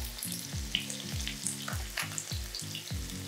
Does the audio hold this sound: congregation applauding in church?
no